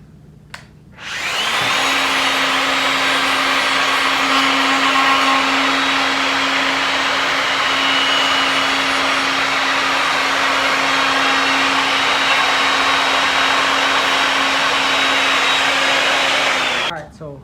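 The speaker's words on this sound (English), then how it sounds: "Let's take our plunge router and begin." A plunge router runs a round-over bit along the edge of a scrap-wood shelf, a loud steady high whine that starts, holds for about fifteen seconds and then winds down, close by with no talk.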